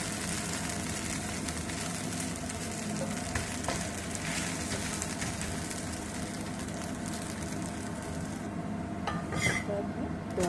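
Corn dosa sizzling and frying steadily in groundnut oil on a pan after being flipped, a continuous close crackle with a few faint clinks near the end.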